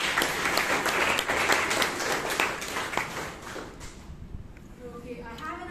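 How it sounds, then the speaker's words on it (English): An audience at a Toastmasters club meeting in Bangalore breaks into applause, loud and dense at first, then thinning and fading toward the end as a few claps and faint sounds linger. "Can we give him a round of applause?"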